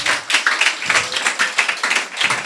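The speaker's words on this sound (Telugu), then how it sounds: "చప్పట్లు కొడదాము గాక." Congregation clapping hands together during a Sunday church service, a close burst of many palms beating in a loose rhythmic pattern, loud and continuous for a couple of seconds.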